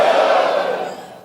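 A live seminar crowd shouts "let's go" together in one loud, brief collective roar that fades over about a second, with no other talk.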